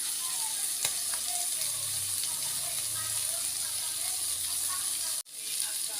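Mung beans tipped into a hot sizzling pan for ginisang monggo, a steady broadband frying hiss running throughout with low stirring rumbles, cutting off sharply near the end before resuming.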